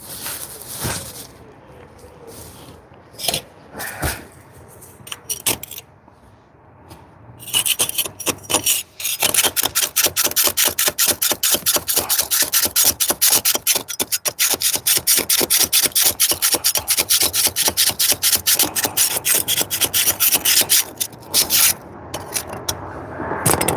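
A scraper rasps against brick in a DIY job, starting with scattered scrapes and then settling into a long run of fast, loud, rhythmic strokes close by.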